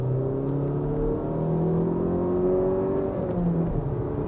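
Engine of a Mazda CX-30 small SUV revving under acceleration, a steady low drone with rising harmonic tones that swell and shift in pitch, continuous and fairly close with no talk.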